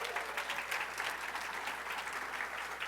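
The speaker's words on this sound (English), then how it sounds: "please, round of applause" Applause at a community-engagement conference opening in the Chicago area: a continuous, even wash of many hands clapping, heard from a distance and fairly faint, with no voices over it.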